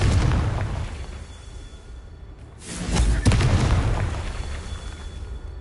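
Confringo fire spell explosion in Hogwarts Legacy, a dense, loud rumbling blast that swells midway after a roaring magical backdrop, sustained and booming rather than a single crack.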